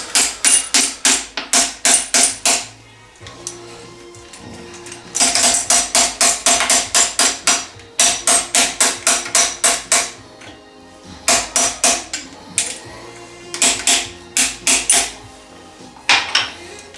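A small puller works a stripped, tightly pressed-in part out of a Foxbody Mustang 5.0 engine during disassembly. Crisp metallic clanks come close and loud in quick rhythmic runs, separated by short pauses.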